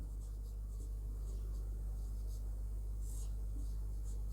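Writing on a board during a Class 10 biology lesson, a steady scratchy stroke sound running continuously over a constant low electrical hum, with no pauses.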